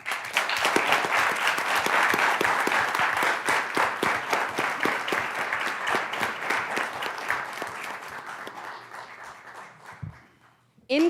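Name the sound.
applause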